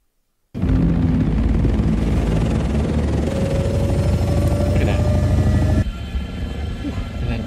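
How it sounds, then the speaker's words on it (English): Ornithopter from the film Dune, a helicopter-like flying machine with eight flapping wings, heard as a loud, steady low rumbling drone that starts abruptly and holds throughout, with a faint rising whine, then eases slightly near the end. "They have the helicopter bug things."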